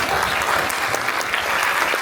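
A theatre audience at a live comedy sketch claps loudly and steadily, dense applause filling the whole moment with no gaps.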